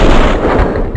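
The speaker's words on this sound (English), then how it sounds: "Someone must have heard the gunfire." A loud, dense burst of gunfire from the Max Payne video game fills the moment with a heavy, continuous boom and rumble, close and without speech.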